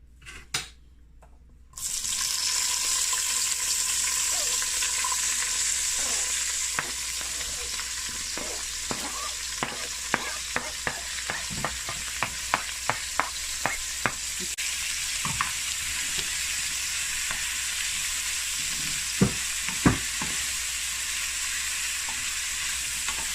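Vegetables for Jamaican steamed cabbage hitting hot coconut oil in a pan, a steady loud sizzle that runs throughout, with repeated sharp clicks and scrapes of a utensil stirring, close up.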